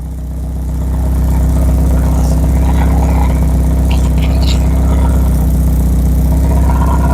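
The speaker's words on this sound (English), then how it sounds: "The exhaust sounds horrible." Porsche 944 idling with leaking exhaust, after a year abandoned: a loud, steady low rumble close by, with a slightly ragged, puffing exhaust note and no talk.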